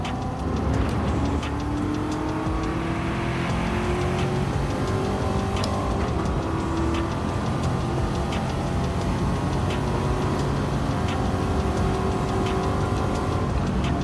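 A sports car engine in Gran Turismo 7 drones steadily throughout, with rising and falling revs and gear changes, loud and continuous.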